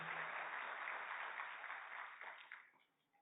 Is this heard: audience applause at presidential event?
yes